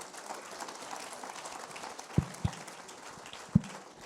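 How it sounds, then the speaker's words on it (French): Faint applause from an ocean-event audience welcoming skippers Audrey Augereau and Erwan Leroux on stage: a soft, steady patter of clapping with a few sharper low thumps near the end. "Vous pouvez les applaudir."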